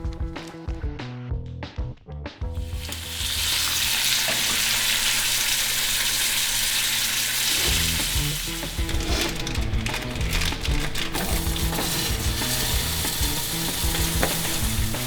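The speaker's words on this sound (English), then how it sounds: "So 2 slices of bacon, and I'm going to go ahead and cook the Axis sausage" Two slices of bacon and Axis deer sausage fry in a pan, a few spatula knocks and clatters giving way to a loud, dense, continuous sizzle with scraping stirs, close and without talk.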